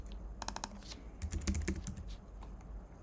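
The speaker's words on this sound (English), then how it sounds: "I will just type digital" Quick bursts of typing on a computer keyboard, two short runs of crisp keystrokes separated by a brief pause, close and fairly quiet with no talking.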